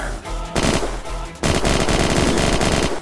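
Rapid automatic fire from a DJ gun in the video game Unturned, loud bursts broken by a short pause, then resuming in a sustained, dense stream of shots.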